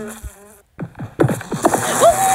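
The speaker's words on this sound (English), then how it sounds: "Oh, we got some beehives." Bees buzz around beehives in the Minecraft video game, a close, steady insect drone that swells after a brief silence, with short game sounds mixed in.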